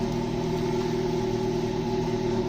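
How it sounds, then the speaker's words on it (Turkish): A car engine with Coca-Cola poured into the coolant instead of antifreeze, running roughly after a hard start: a steady, close low idle rumble with a faint uneven pulse, no voices. "Şu an çalıştı ama inanılmaz şekilde kötü çalışıyor."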